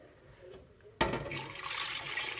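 Water gushes suddenly and steadily into a cooking pot holding beef and pork for Ukrainian borsch, a close, continuous pour following a second of near quiet.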